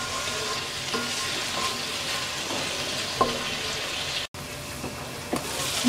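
Green chillies, spices and salt frying in a pan for a pabda fish curry with potato and eggplant, a steady sizzle with scattered scraping stirs and one short break, no voices.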